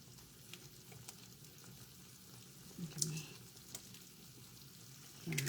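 An egg frying at the edge of a pan beside other food, a continuous close sizzle with occasional stirring knocks and brief louder crackles.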